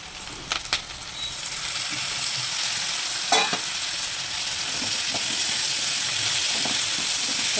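Tomatoes sizzle and fry steadily in a hot pan while curry cooks, a loud continuous hiss with a few clinks and stirring scrapes near the start and middle.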